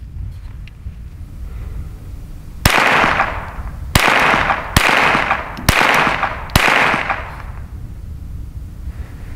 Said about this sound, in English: we'll just run these first five rounds and see how it goes